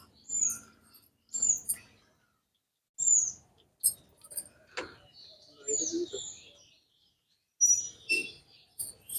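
Pigeons are released from their coop, and a series of short, high chirps and calls comes in scattered bursts separated by brief quiet gaps, close by and fairly soft.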